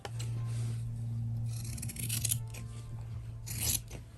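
Scissors trimming fabric close to the sew line of an origami-style coin pouch, a series of quiet, close snipping and rubbing cuts over a steady low hum.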